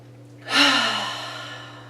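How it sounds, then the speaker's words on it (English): One deep breath is pushed out hard during a yoga breathing exercise. The exhale is close and loud and swells suddenly, then fades slowly over about a second and a half above a low steady hum. "Big breath here, pushing out the old air"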